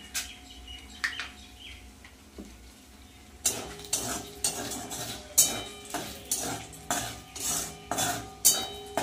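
Whole garam masala of cardamom, cinnamon, black pepper, black cardamom and mace is stirred in a cooking pot, a quiet stretch giving way to a steady rhythm of loud metal scrapes under a faint sizzle.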